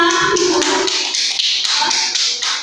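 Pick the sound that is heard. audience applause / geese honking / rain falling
audience applause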